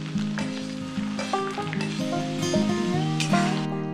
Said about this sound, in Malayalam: അരിഞ്ഞു വെച്ചിരിക്കുന്ന വെളുത്തുള്ളി ഇഞ്ചി പച്ചമുളക് ഇട്ട് ഒരു ലൈറ്റ് ബ്രൗൺ ആവുന്ന വരെ നന്നായി വഴറ്റുക